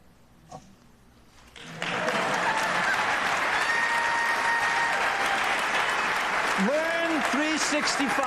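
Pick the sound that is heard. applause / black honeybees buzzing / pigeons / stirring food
applause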